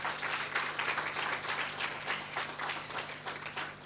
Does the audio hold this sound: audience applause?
yes